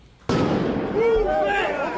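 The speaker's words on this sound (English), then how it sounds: "I just got hit in the leg with a firework." A firework bursts with a sudden sharp bang at a street protest march, followed by loud crackling, whistling streaks and crowd noise that stay loud close by.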